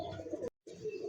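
Lahori pigeons, a matched blue-bar pair with feathered feet, give a brief low cooing burst that breaks off for a moment and then resumes, close by.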